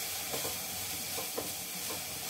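Rice flour stirred into a pot of melted jaggery over a low flame for undralla payasam, with soft repeated scraping strokes over a faint simmering hiss, heard close and quiet.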